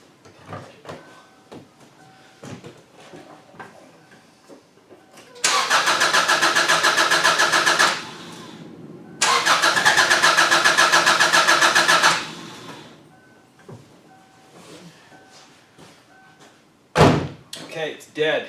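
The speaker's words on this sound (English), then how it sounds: "I'm going to go ahead, I'm going to try to restart it right this second, see if it restarts." A 2002 Subaru Outback with a suspected fuel pump fault cranks in two long bursts of steady starter whirring, broken by a short pause, and fails to catch. A clunk follows near the end, with someone talking before and after.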